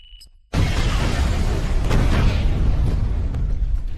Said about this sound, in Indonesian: ledakan pun terjadi yang membuat semua orang panik